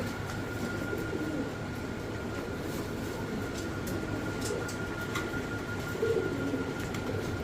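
Two female fancy pigeons of the Modern Satinette breed coo softly in a steady background murmur, with faint bird calls and some rumbling ambient noise throughout, no voices.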